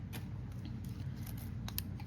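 Scissors snip through fabric for a tote bag in a few quick, crisp cuts, close but fairly quiet in a still room with no one talking.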